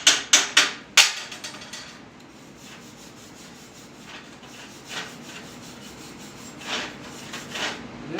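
Slag is chipped and beaten off a poor weld on cold metal: four sharp metallic hammer strikes open, followed by scraping and a few lighter taps, close by.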